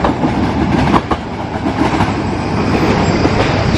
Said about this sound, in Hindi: तो देखा आपने, जंगल के बीच में रेलवे लाइन है।